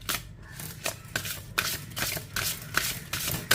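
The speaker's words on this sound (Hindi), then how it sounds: "और भी कुछ कार्ड्स लूंगी।" Tarot cards are shuffled by hand at close range, giving a quick series of crisp riffling and flicking bursts over a few seconds.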